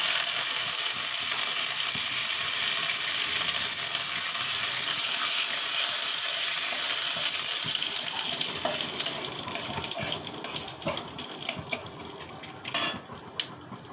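Curry leaves crackle in hot oil with mustard seed tempering, a bright, dense sizzle that holds steady and then thins out. Near the end come a few clinks and scrapes from a utensil against the pan.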